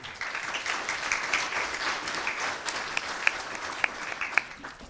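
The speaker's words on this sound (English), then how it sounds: "And a natural round of applause there" A crowd's applause fills the room, steady patter of many hands clapping at moderate distance, with a few sharper claps standing out.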